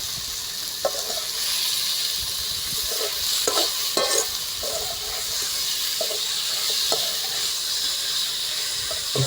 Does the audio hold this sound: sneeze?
no